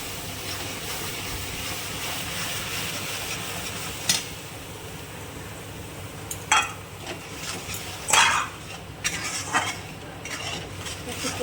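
Mustard paste seasoned with turmeric and salt fries in oil in a pan while it is stirred. A low continuous sizzle runs throughout, with scattered sharp metallic clinks and scrapes of the spoon against the pan and no talking.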